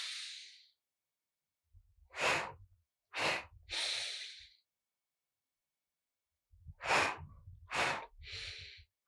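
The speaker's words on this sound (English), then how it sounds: "You breathe, there's 2 out breaths, 1 in breath." Audible qigong breathing, close and breathy, in repeated sets of two sharp out-breaths through the mouth followed by one longer in-breath, with silent pauses between the sets.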